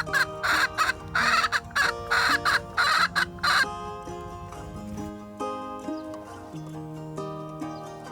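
Free-range backyard chickens roaming a home vegetable garden cluck in a quick run of loud, close bursts, then settle into softer, drawn-out calls.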